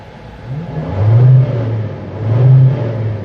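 A 2003 Ford Explorer Eddie Bauer engine idles nearby and is revved twice, each rev swelling then settling back to a steady hum.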